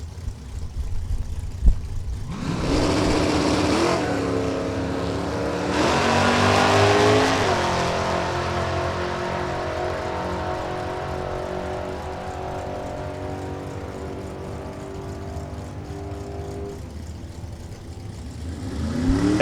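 Drag racing cars, including a first-generation 1969 Camaro, launch with a loud rising engine roar that swells, then holds, and fades into a long, sustained drone, with an announcer barely present.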